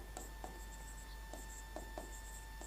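Chalk or marker strokes on a board during a chemistry lecture, a handful of faint, scratchy taps and short rubs spread unevenly over a low steady hum in a quiet room.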